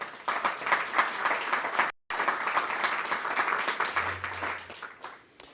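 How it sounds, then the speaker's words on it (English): A quick round of applause from an audience at a housing rights event, dense steady clapping that stops briefly, then resumes and slowly thins out. "We just have a quick round of applause to acknowledge their service."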